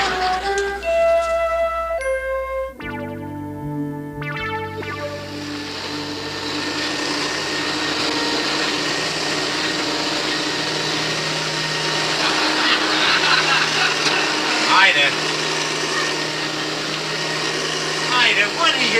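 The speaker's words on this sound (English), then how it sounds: "I'm vacuuming the rug." A vacuum cleaner runs steadily on a rug as a continuous whine and drone, starting after a brief burst of music, with laughter and voices over it.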